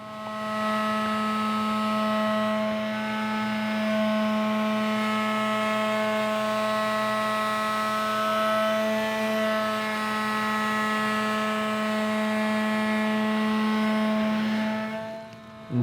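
A wooden cutting board being sanded at final grit with a power sander, a steady loud whirring drone with strong tonal hum held throughout, dropping off at the very end.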